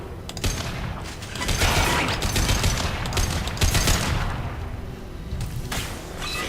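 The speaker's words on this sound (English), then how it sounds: "heavy disruptor ammo works beautifully on this mission" Rapid bursts of weapon fire with heavy disruptor ammo in the video game Mass Effect 2, loud and dense with booming impacts and mechanical clatter, easing briefly near the end, no talk.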